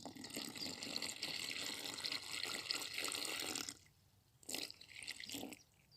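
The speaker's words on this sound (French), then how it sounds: "j'ai mes 400 ml d'eau. Donc je vais venir les verser avec l'amorce." About 400 ml of water poured into fishing groundbait, a faint close trickling stream that runs steadily, breaks off, then returns briefly in a short second splash.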